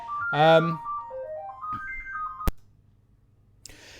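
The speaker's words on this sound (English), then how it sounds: "Sorry, the phone rang there." A phone ringtone plays a short rising-and-falling electronic melody, with a brief burst of speech at the start and a sharp click afterward.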